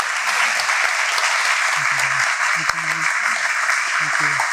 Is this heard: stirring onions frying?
no